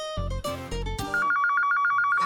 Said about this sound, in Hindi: ये फोन भी ना हमेशा गलत टाइम पे बजता है